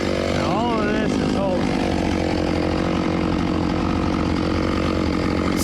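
A chainsaw works through an ash tree, its engine buzzing loud and continuous up close, with a voice briefly heard over the saw near the start.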